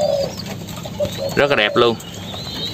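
Young spotted doves give soft, close coos in a couple of short bursts, with a voice speaking over part of the calling.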